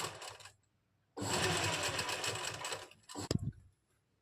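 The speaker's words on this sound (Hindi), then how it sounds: "इसी तरह से बड़े टांके के साथ इसमें सिलाई लगा लेंगे।" Sewing machine stitching a kameez lining with long stitches, two close bursts of rapid mechanical whirring, the first brief and the second running about two seconds, followed by a few clicks.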